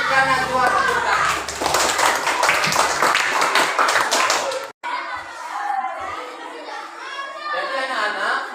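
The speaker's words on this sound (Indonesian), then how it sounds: "Berikan Najwa tepuk tangan." Children in a classroom clap together in a dense burst of applause, then the clapping stops abruptly and someone speaks to the class.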